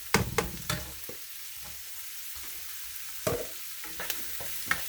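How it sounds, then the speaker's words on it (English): Onions and fish cake being stir-fried in a pan, with a quiet, low sizzle under scattered scraping and stirring knocks that cluster near the start and again toward the end. "Next we're going to put onions. After the onion, we're going to put the fish cake."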